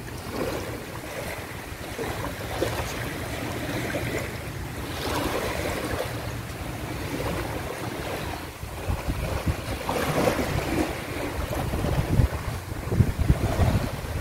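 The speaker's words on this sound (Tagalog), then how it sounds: "grabe ang ganda ng mga hampas ng alon" Ocean waves crash and wash continuously onto Sugar Dock Beach in Saipan, a steady broadband surf roar with heavier surges toward the end, mixed with gusty wind buffeting the microphone and no talking.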